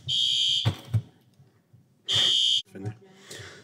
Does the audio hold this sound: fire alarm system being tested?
yes